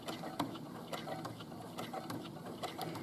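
A sewing machine stitches a fabric casing, a quiet, steady run of fast mechanical ticks and clicks in an even rhythm.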